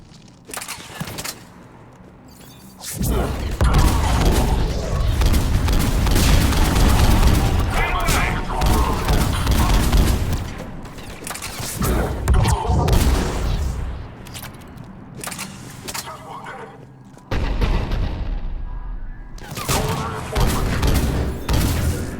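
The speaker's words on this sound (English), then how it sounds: "The cannon fire is clearing the way." Repeated heavy cannon booms and bursts of gunfire-like blasts in Mass Effect 3 come in waves, mixed with game effects and occasional voices talking over the action.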